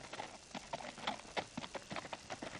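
Horse hooves clip-clop in a steady, uneven rhythm on a rural sheep station during mustering, the hoofbeats close and fairly loud with no talk over them.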